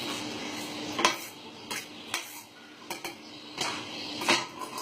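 A knife chopping mung bean sprouts on a board while making soft food for parrots: irregular sharp clicks and taps with quiet gaps between them, close and clear.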